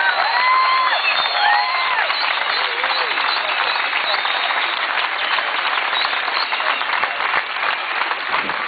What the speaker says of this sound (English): Peter deserves a big round of applause for that.